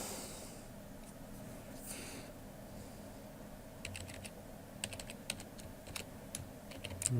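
A username is typed on a computer keyboard in a faint, quiet room, with a few scattered soft keystrokes and then a livelier run of taps near the end.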